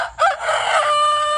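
A backyard rooster gives one loud, close crow that is drawn out over about a second.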